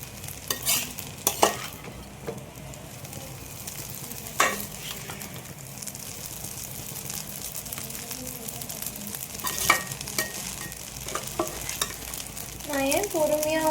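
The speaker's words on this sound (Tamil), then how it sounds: "இப்போ நீங்கள் நல்லா பொறுமையாக கிளறிங்க" Chicken noodles sizzle and fry in a pan over a medium flame while a utensil stirs them, with a steady hiss broken by repeated scraping clicks against the pan near at hand.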